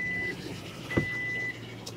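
A truck's reversing alarm sounds outdoors in Cameron, Texas, two steady electronic beeps over a low engine rumble, with a brief knock between them.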